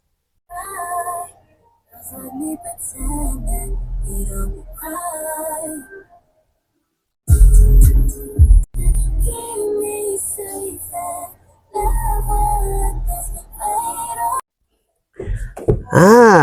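Music with a strained, wailing vocal plays loudly through speakers in long phrases broken by brief silent gaps.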